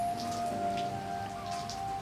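Light morning drizzle in summer, a faint, soft patter of scattered raindrops under a thin steady tone, with no voices.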